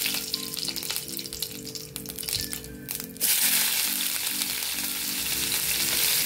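Cumin seeds and a bay leaf hit hot oil for a vegetable pulao: a mild crackle with a rhythmic tapping, then a sudden louder, steady sizzle that fills the rest, close and without talk.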